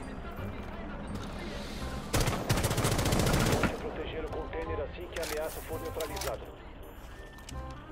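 Gunfire in the video game Rainbow Six Siege: a sustained, loud burst of automatic fire in the middle, with sharper scattered shots and game clatter around it, while a voice talks over the action.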